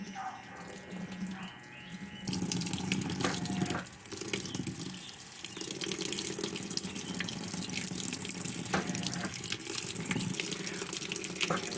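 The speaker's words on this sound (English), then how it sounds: "And now the valves are opening." Water valves on a Maytag washing machine open and water rushes in to fill the drum. A hiss and gush start abruptly a couple of seconds in and keep going steadily, nearby.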